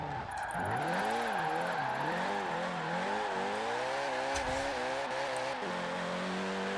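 A drift car in Forza Horizon 4 revs up and down, its engine tone swooping through rising and falling pitch sweeps before climbing and holding high revs, with a thin tire squeal above it.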